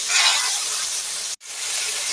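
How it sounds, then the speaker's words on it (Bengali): Panch phoron spices with cumin, chilli powder, turmeric, fennel and ginger frying in hot oil, heard as a close, steady hiss that drops out abruptly for a split second and then resumes. "এটাকে একটু ভেজে নেব"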